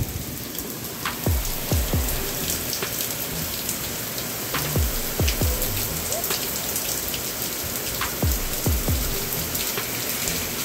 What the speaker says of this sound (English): raining like crazy. Look at this.